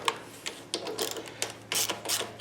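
Ratchet wrench working 10 mm bolts on a Husqvarna HU800AWD lawnmower with a Honda GCV190 engine, a series of short sharp metallic clicks in uneven bursts, close and fairly quiet, no talking.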